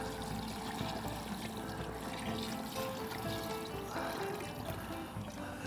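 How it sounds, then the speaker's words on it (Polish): Water pours steadily into a cooking pot to top up its level, a continuous close splashing and trickling stream with no talk. "Za mało wody, więc już uzupełniam jej stan."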